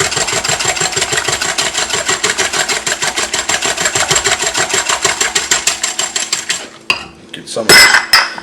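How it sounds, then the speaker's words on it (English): Eggs and batter whisked briskly in a bowl, a fast, steady run of close metallic clicks and scrapes for several seconds, then stopping with a few knocks and handling noises at the end. "Take a whisk to it, just get everything mixed together."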